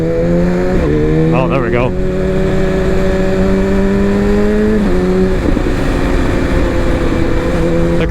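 A sport motorcycle, either a BMW S1000RR or a Kawasaki ZX-10R, accelerates hard with a quick shifter, its loud close engine whine stepping up through gear changes while someone speaks briefly over it.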